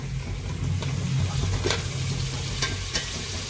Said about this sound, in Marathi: आता आपण ह्याच्यात टोमॅटो पण चांगला फ्राय करून घेऊया